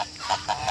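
Three short nasal quacking calls from ducks at a lake, close by and fairly loud, evenly spaced with brief pauses.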